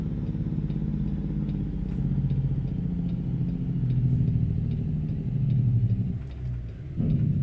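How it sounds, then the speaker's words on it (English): A truck's engine brake in American Truck Simulator, a deep, rapid staccato rumble that swells and fades in waves, loud and steady with a ticking pulse, no talk. "Sound like thunder when the engine brake is on."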